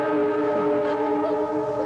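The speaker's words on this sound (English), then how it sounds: "That's my train. Isn't that a beautiful sound?" A passing train sounds its horn in a long, steady multi-tone chord that holds loud and close for the whole stretch, with no talk over it.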